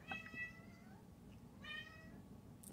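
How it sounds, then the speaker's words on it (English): A pet cat meows faintly in a quiet room, two short meows a second or so apart, with low room noise behind and no talking. "Can you guys hear my cat?"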